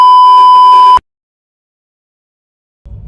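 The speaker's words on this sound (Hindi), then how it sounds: "यहाँ पे बीप डल जाएगी गाइस।" A loud, steady censor beep added in the edit holds a single tone for about one second, then cuts to silence, with faint low noise returning at the very end.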